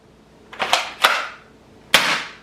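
A salt-firing fly swatter toy gun shoots ordinary table salt, giving three sharp snapping pops close by, two quick ones followed by a single later shot, each with a brief hissing tail.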